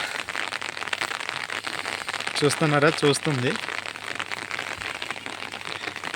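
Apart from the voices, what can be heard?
rain falling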